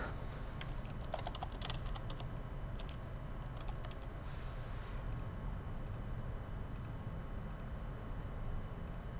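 Rapid clicking of computer keyboard keys as text is typed in bursts and pauses, close and moderately quiet over a constant low hum.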